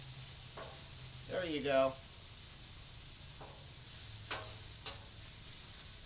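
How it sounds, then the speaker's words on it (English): Onion sizzles as it is grilled and sautéed on a hot cooking surface, a soft steady frying hiss with a few stirring scrapes beneath a brief spoken remark. "what you want to do is you want to grill your onion to where it's slightly golden brown"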